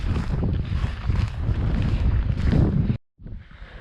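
Strong wind outdoors while hiking in Finnmark, a loud, gusting roar buffeting the microphone, then a sudden cut to near silence before fainter wind returns.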